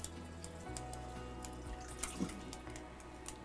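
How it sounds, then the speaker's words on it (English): Running water from a tap splashes steadily into a pot of chicken for stock, a continuous watery rush with a few small clinks, close by and moderately quiet. "I'm going to put some more water in here"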